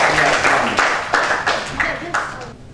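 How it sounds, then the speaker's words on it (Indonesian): An audience at an award closing ceremony claps in a steady burst of applause, with a voice talking over it and sharp claps punctuating the sound. "Oleh karena itu mohon tepuk tangan terlebih dahulu."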